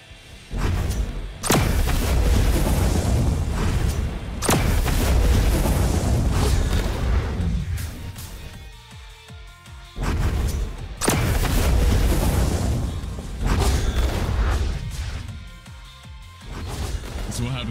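Heavy booming explosions from the Roblox game Blox Fruits roll out one after another, loud and dense, with rumbling low impacts and talk mixed in.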